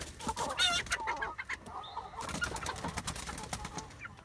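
Chickens clucking and squawking nearby while establishing pecking order, a brief burst of agitated calls over a busy flock murmur.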